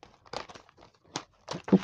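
Oracle cards being shuffled by hand in short crinkling, rustling bursts, close and fairly quiet, with a sharper snap near the end.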